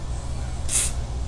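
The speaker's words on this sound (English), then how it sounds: "you want to instantaneously, you need to spray it" A WD-40 aerosol can fires one short, sharp hiss of spray, close and loud, about a quarter second long, against a quiet room.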